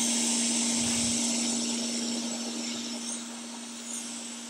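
Steady whirring hot air gun blower hum heating a circuit board repair, with a constant tonal whine, close and moderately loud, fading slightly toward the end.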